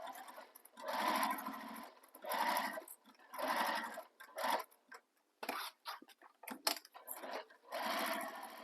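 Sewing machine basting a handbag seam with a long stitch length, running in several steady bursts of whirring stitches with short pauses between, close and fairly loud.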